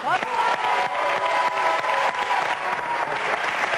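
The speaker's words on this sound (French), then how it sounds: "Je vous demande d'applaudir Cécile de France et Francis Perrin." Steady applause from a French TV studio audience, loud and sustained throughout with dense clapping and no talking.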